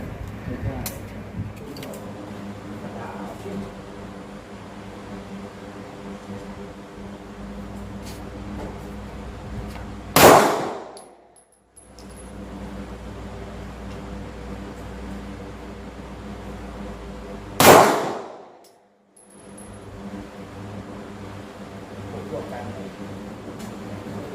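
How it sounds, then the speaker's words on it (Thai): A CZ Shadow 2 pistol fires 9mm 125-grain hollow-point rounds, two sharp, loud shots about seven seconds apart, each ringing off briefly over a steady low background hum. "เดี๋ยวจะทดสอบยิงด้วย CZ Shadow 2กระบอกนี้นะครับ"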